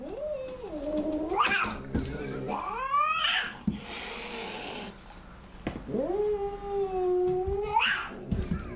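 A cat yowls and growls angrily in long, rising and falling wails, loud and close, with a short scuffle and hissing noise between the cries.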